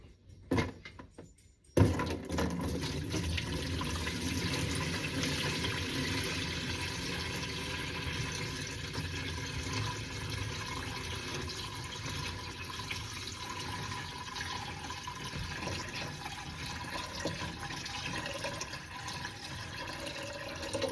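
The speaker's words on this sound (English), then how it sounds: "now we're going to pour" Whey pours off salted homemade cheese curds in a steady, rushing stream of liquid that runs unbroken for many seconds after a brief start.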